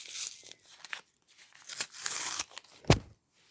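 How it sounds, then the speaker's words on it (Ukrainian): Close, quiet rustling and crinkling of a plastic Kinder Harry Potter packet being opened comes in short bursts, ending with a sharper rip, with brief silences between. "намагаємося відкрити цей пакетик, не пошкодивши."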